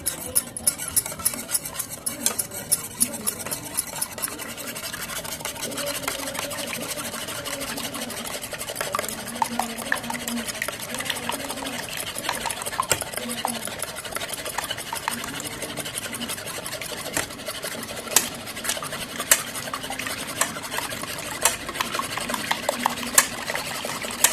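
Raw eggs with salt, chili powder and garam masala are beaten briskly for an omelette, a fast, continuous clicking whisk against the bowl that runs steadily throughout, close and fairly loud.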